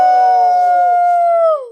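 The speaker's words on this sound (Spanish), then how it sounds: "Dime si tú sabes cómo dice el lobo" A single wolf howl, loud and close, holding a long steady tone before sliding downward and fading out.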